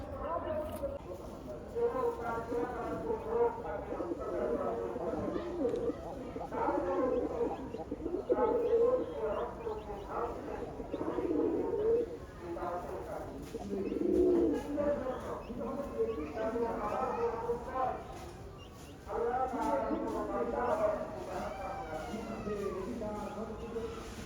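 Red and black Rajgolla pigeons coo softly in the background, their low murmuring calls mostly buried under steady, continuous talking close by.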